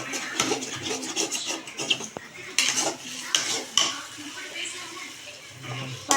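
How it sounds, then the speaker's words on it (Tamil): Eggs are beaten in a pan on a low flame, with a utensil scraping and clinking against the metal in uneven, busy strokes, close up. "லோ ஃப்ளேமில் வச்சு கொஞ்ச நேரம் பீட் பண்ணுங்க"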